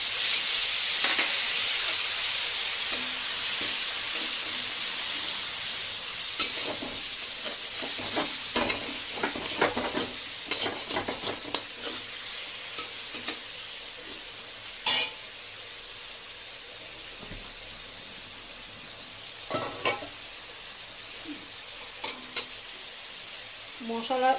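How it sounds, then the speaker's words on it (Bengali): Water splashes into a pan of frying dry spices coated on fish heads for a lentil dish, setting off a loud hissing sizzle that slowly settles, broken by scattered clinks and stirring knocks. "এই যে একটু জল দিয়ে দিই, যেহেতু শুকনো মশলা।"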